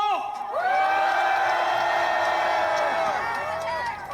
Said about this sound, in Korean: 더욱 소리 높여 탄핵 반대를 외쳐주십시오